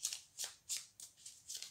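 Tarot cards handled and drawn from a deck, a quick series of soft, close papery swishes in an even rhythm, faint and without talking.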